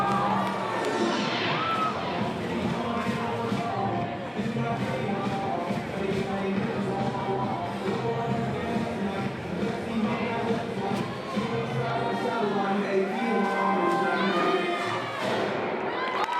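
A crowd cheers and shouts through a high school cheer team performance, a sustained loud roar with rising whoops and some thuds, interwoven with music-like tones.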